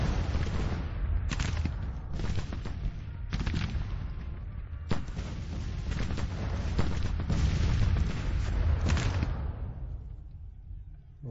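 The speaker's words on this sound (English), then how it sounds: "coming under heavy artillery fire now." Heavy artillery barrages roll on continuously in the Civil War strategy game Grand Tactician, loud overlapping booms and cannon shots clustered in repeated bursts over a dense battle din that fades out near the end.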